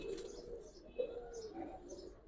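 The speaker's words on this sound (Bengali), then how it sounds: "এই দেখেন এটা কবুতর একটা নর নিলাম দর্শক ভাইয়ের কাছ থেকে" A male pigeon of a fancy breed at a home loft, cooing softly in a few low murmuring phrases with faint chirps, fairly quiet and close, with no talk.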